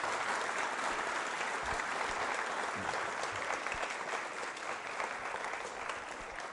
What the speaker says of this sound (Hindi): तालियां बजाइए उन सभी के सम्मान में आप।